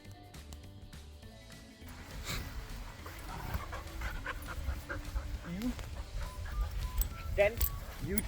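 Dogs pant rhythmically, close and fairly quiet, on a walk outdoors, with a faint whimper and scattered footsteps and rustling around them.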